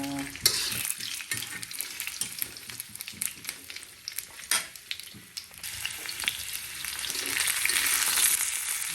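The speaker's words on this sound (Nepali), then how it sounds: "आलु पाक्ने गरी भुट्नुपर्छ" Potatoes fry in a pan with a steady sizzle, punctuated by clinks and scrapes of stirring; the crackle grows louder and fuller toward the end.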